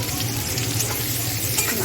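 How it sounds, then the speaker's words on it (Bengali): Chopped onion with whole spices frying in hot oil while being stirred in a pan; a steady, close sizzle fills the whole stretch, with soft scraping of the spoon on top. "নাড়াচাড়া দিতে হবে।"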